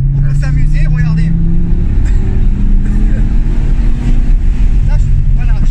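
An Audi TT RS mk3 pulls up to about 130 km/h, heard as a loud, continuous low engine roar from inside the cabin, with someone talking over it.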